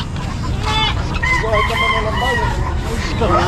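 Chickens cluck and a rooster crows amid a noisy pet market, with harsh bird calls overlapping throughout and no clear talk.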